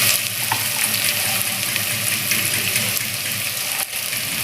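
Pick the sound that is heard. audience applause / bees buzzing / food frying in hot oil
food frying in hot oil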